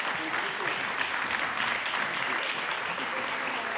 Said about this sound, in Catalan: Un aplaudiment per la companyia